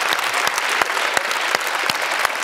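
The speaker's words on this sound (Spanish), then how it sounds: "Ese aplauso para chiquito" Studio audience applause on a Spanish late-night talk show, a dense, even wash of many hands clapping at full volume with no talk over it.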